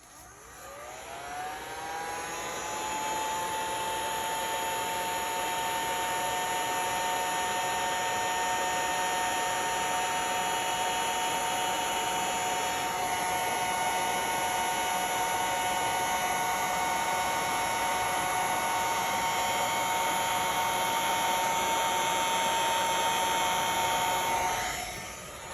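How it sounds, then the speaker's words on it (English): A heat gun set to low blows over resin with a steady whine. The motor rises quickly in pitch as it spins up, holds an even, loud hiss and hum, then cuts off at the end. "So I'm going to do the heat gun on low again."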